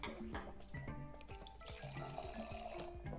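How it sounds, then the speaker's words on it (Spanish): Wine, fino or oloroso sherry, pours from a bag-in-box tap into a glass, a steady close trickle with small bubbling, gurgling pops and no talking. "a ver si podemos enfocar aquí y vemos cómo va lo del grifo"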